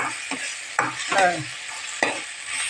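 Onion and tomato for gobi manchurian are sautéed in a pan. A constant sizzle runs underneath while a spoon makes a few sharp scraping strokes and a longer stirring pass, close and fairly loud, with no voices.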